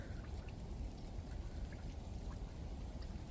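Steady rain pattering onto a wet lakeside boardwalk at Lettuce Lake on a cold, overcast Florida day, a dense continuous hiss of drops with soft low rumble, fairly quiet and without voices.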